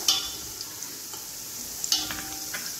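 Raisins frying in oil in a pan for a Satyanarayan prasad sweet, a soft steady sizzle with a few stirring scrapes and clicks, close and moderately quiet, with no talking.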